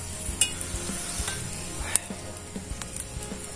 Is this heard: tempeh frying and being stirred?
yes